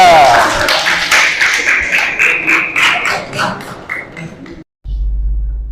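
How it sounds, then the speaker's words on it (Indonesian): Students in a classroom clap for a presenting group in a quick, rhythmic burst of hand claps that fades toward the end before a short pause and a low hum. "Tepuk tangan dulu untuk kelompok 2"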